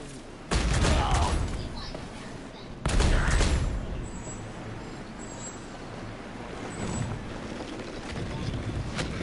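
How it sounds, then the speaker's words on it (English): Bombs dropped on enemies during a bombing run in Genshin Impact, two heavy booming blasts a couple of seconds apart followed by a sustained roaring rumble. "Literally, I'm dropping bombs on their heads."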